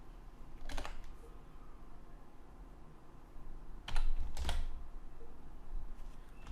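Keystrokes tapping on a computer keyboard while entering PHP code, a few isolated clicks early on, then a denser burst of taps near the end, close and fairly quiet with no talking.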